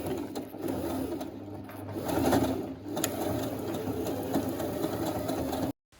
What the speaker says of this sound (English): I'll stitch the allowance to my jeans.